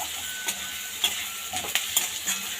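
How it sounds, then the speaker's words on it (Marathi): Crushed green chili thecha stir-fries in a pan, a soft steady sizzle broken by a few light scrapes and taps of a spatula, close and fairly quiet with no voices. "आता हा आपण ह्याच्यामध्ये व्यवस्थित परतून घेऊया"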